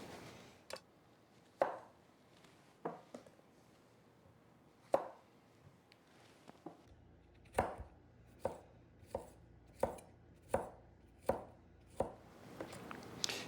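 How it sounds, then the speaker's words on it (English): A knife dices zucchini on a cutting board in sharp, isolated chops. Strikes are sparse at first, then quicken into a steady rhythm, close and fairly quiet. "we need to dice up the zucchini, which you may know as courgette"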